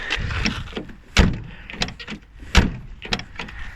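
Door of a 1989 Ford Sierra opening and shutting, with a couple of solid thuds and handle clicks standing out among smaller rattles and latch noises, close up, no talking.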